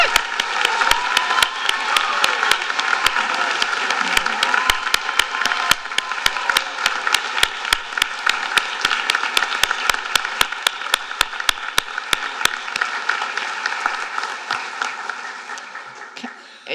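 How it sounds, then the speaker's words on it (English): Audience applause at a Doctor of Pharmacy white coat ceremony fills a large hall with loud, sustained clapping and crowd noise, dense and even throughout, with a few sharp individual claps standing out near the microphone. "So let's give them all a great round of applause."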